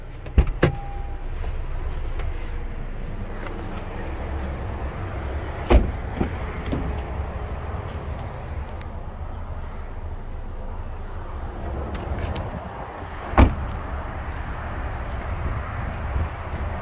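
The sunroof motor of a 2018 Honda Civic whirs steadily inside the car, with a few sharp clicks and knocks as the panel moves and stops.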